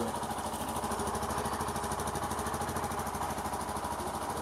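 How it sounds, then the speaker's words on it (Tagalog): A Bajaj Maxima Z auto rickshaw engine chugs at a steady idle, its rapid rattling putter running continuously and fairly close. "Ganyan ang tunog ng Bajaj Maxima Z."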